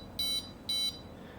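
Two short, evenly spaced high electronic beeps from an Arduino-driven LCD status screen, each about a fifth of a second long, with a brief gap between them, fairly clear and close over quiet background hiss.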